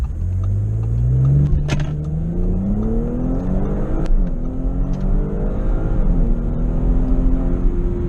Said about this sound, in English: I'm just gonna go right from launch to save time.